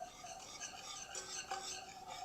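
A spoon stirs flavoring into a mixture with a soft, continuous scraping and swishing, faint and close, and one or two light taps partway through.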